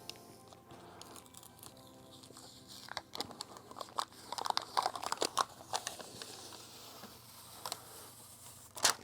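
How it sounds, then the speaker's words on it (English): Protective film is slowly peeled off an LED studio light, giving a quiet, uneven crackle of crinkling plastic with scattered sharper ticks and pops up close. "You really gotta peel it slowly."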